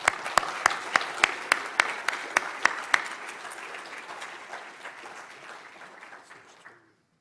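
An audience in a lecture hall applauds to welcome a professor to the stage, starting with strong, evenly spaced claps over a broad wash of clapping that gradually thins and fades to silence.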